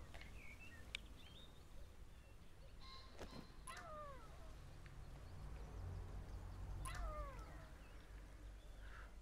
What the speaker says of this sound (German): Ich würde sagen, wir haben da noch ein paar Katzen